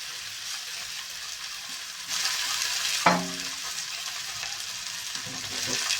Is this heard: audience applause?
no